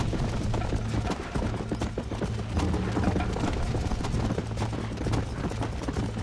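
Horse hooves clip-clop steadily in the Red Dead Redemption Wild West game, a continuous trotting rhythm with a low mechanical hum underneath and no voices over it.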